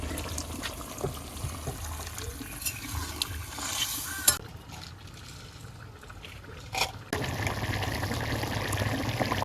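Water is poured into a pan of bottle gourd and prawn curry cooking over a village stove, a soft splashing pour and stirring under a light sizzle, close and moderately loud, ending in a steadier bubbling hiss.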